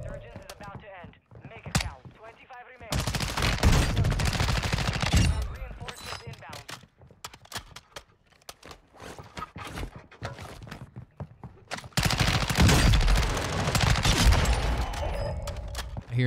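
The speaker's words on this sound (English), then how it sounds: "I hear an RPK. I don't like the sound of that" An RPK light machine gun fires in Warzone 2 on Ashika Island, loud sustained bursts of rapid automatic fire in two long stretches with scattered shots and a player talking between them.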